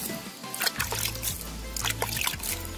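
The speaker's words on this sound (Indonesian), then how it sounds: "Selanjutnya kita siram, kita jaga kelembapannya jangan terlalu basah." Water poured from a watering can onto a potted bougainvillea cutting, trickling steadily into the soil with a low hum of background noise.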